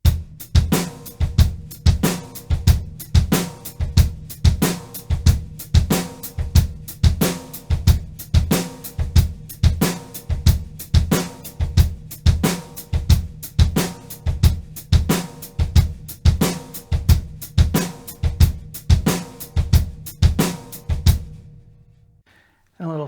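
Drum kit playing a steady paradiddle pyramid pattern of sixteenth notes, accents alternating into the bass drum and the snare, with hi-hat; dense, regular hits close and loud throughout, stopping cleanly near the end.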